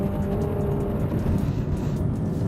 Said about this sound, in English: just listening to the V12 engine